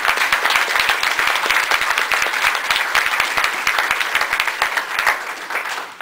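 Audience at a public meeting on a hog factory in Newton County, Arkansas bursts into applause, a dense run of crisp individual claps from a modest crowd, close and steady, easing slightly toward the end.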